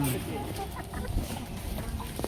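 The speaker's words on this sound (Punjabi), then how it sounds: "ਲਓ ਵੀ ਆ ਮੁਰਗੀਆਂ" Hens cluck close by at the Harike Kalan goat market, short broken calls over the din of a busy crowd, while people talk throughout.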